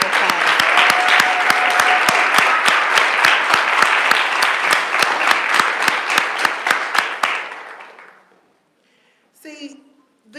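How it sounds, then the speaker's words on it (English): Loud, close audience applause for former Kansas City public school board members at a press conference, dense clapping that fades out around eight seconds before brief talk resumes. "Yes, give them a round of applause."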